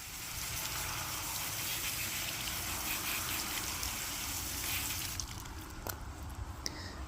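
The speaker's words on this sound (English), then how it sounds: "So I'm going to rinse all these off next and get them cleaned up." Water gushes steadily from a tap or hose while ranunculus and anemone corms are rinsed clean of dirt in a garden setting, a constant broadband hiss that thins near the end with a few faint clinks.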